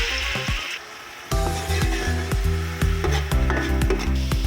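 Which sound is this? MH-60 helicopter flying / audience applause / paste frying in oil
paste frying in oil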